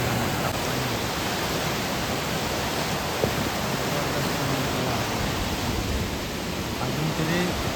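Heavy monsoon floodwater rushes past rocks in Mangeli village in the Konkan, a loud, steady, unbroken roar of water that fills the whole stretch.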